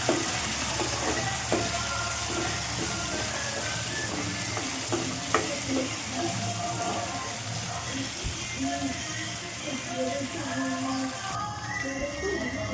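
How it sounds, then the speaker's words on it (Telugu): Blended tomato chutney sizzles and spatters in hot oil while being stirred in a pan, a steady close frying hiss with occasional scraping clinks of the spoon. "మిక్సీ పట్టుకున్న టమాటా పచ్చడిని ఆయిల్లో వేసి బాగా కలుపుకోవాలి"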